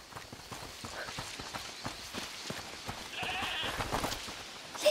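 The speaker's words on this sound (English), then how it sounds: "Is that the goat he talked about?" A goat in a video game bleats in short wavering cries over a steady background of hoof-like clopping and ambient noise, fairly close.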